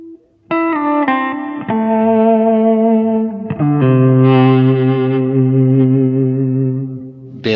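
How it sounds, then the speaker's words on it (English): An electric guitar played with an EBow rings out in long, sustained notes through warm tube-amp distortion, each note swelling in smoothly and holding steady before shifting to the next pitch. "This creates a warm tube-amp distortion sound."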